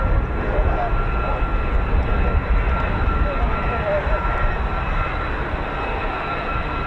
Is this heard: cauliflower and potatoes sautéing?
no